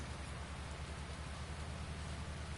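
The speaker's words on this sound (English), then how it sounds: "the game's giving us rain right through till midnight now" Steady rain falling in Farming Simulator 19, a dense, even hiss of drops with a low rumble underneath, constant throughout and with no voices.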